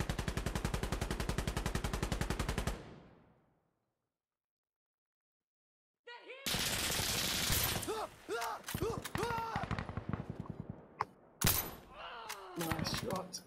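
Automatic gunfire in the Insurgency Sandstorm co-op shooter, a loud sustained burst that cuts to silence, then resumes as scattered, uneven volleys and sharp shots with voices talking over them.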